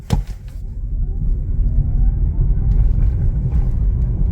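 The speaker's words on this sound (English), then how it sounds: "I bet you it'll boil a tire as it takes off." A Nissan Leaf, out of eco mode with traction control off, pulls away hard from a stop with a loud rising electric whine over heavy road and tire rumble, after a sharp knock at the start.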